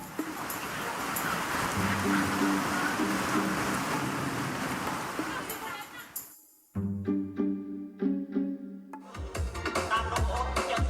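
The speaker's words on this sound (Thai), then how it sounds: "ฝนตกอย่างเงี้ยแล้วมีวิธีการรับมือยังไงบ้าง" Steady rain pours over an outdoor open-air film screening under tents and tarpaulins in Chonburi, a dense hiss for several seconds, then giving way to loud music and film soundtrack with voices.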